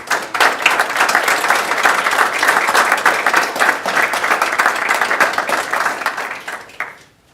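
Audience applause at a school Board of Education meeting as honorees receive a plaque and certificate, steady dense clapping filling the room for about seven seconds before tapering off abruptly.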